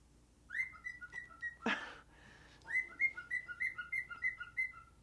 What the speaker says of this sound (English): That's my bird, Sam.